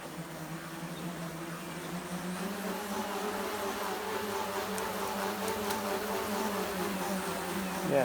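The electric motor of a radio-controlled Levitator 7 aircraft in flight on partly drained batteries, a steady insect-like buzz that slowly swells in pitch and loudness as it nears, with no talk.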